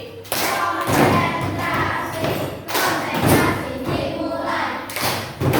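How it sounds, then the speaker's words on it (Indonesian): Schoolchildren in a classroom perform a rhythmic clapping game, tepuk konsentrasi, with loud, close, patterned hand claps and thumps alongside chanting voices. "Tepuk konsentrasi"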